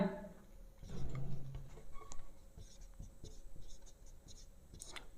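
Chalk or marker writing on a classroom board during a maths lesson, a series of soft close taps and short scratchy strokes in an uneven rhythm, with light room noise and no clear speech.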